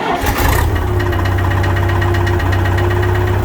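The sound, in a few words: Farmall 544 tractor engine idling with slight knock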